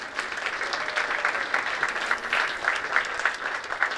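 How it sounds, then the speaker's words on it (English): Audience at a 9/11 memorial service in Palm City, Florida claps steadily for the MC, a moderately loud round of applause with clearly separate claps, no speech over it. "Let's get a big round of applause for Jim."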